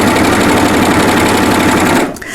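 An overlocker serger stitching fabric for a drawstring bag runs loud and fast, a steady rapid mechanical whir that stops abruptly near the end.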